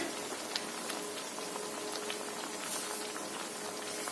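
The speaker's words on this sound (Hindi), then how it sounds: "हम अब अपने पफ को अब फ्राई करते हैं।" Bread pizza puffs frying in hot olive oil, a steady, even sizzle and fine crackle close by, with no one talking.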